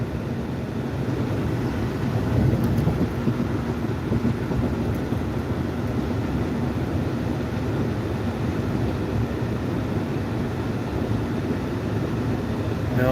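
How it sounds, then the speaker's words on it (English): Boeing 777 airliner landing at Melbourne International Airport, a continuous deep roar with wind buffeting, steady and fairly loud throughout without talk. "Look at that big airplane landing."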